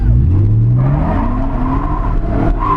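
A BMW E30 drifting at a drift track, its engine revving loud and close with a long tire squeal rising under the roar.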